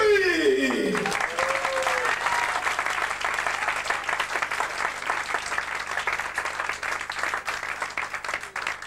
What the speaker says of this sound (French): je vous demande d'applaudir à tous, très très fort